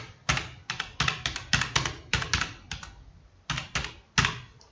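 Fingers type code on a computer keyboard in quick bursts of crisp, close key clicks with short pauses between runs.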